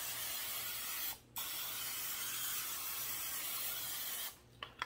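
A steady, loud aerosol oil spray hisses almost continuously over broccoli and cauliflower, with a brief pause partway through and a stop near the end.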